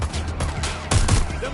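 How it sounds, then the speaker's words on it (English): Gunfire in the Watch Dogs: Legion video game, a quick series of sharp shots, heavier bursts near the middle, mixed with shouting voices. "Shots fired! Shots fired!"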